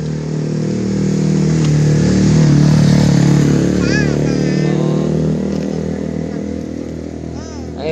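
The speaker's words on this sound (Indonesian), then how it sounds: "Ada motor lewat." A motorcycle rides past on a street during a morning run, its engine rising and falling over a steady road rumble while people talk.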